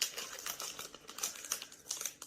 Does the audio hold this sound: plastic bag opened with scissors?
yes